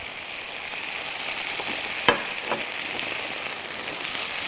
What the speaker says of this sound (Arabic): رح نشيل الفخاد ونحط البصل والبندورة.